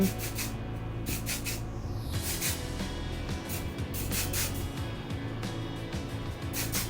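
Repeated short hissing bursts of aerosol hairspray sprayed onto hair, several quick puffs with brief gaps, steady and close.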